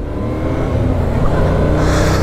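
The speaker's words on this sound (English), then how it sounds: "It has the famous Yamaha CP2 engine." A 2024 Yamaha MT-07 motorcycle with its CP2 parallel-twin engine runs with a loud, close, throbbing exhaust note that builds slightly as it accelerates.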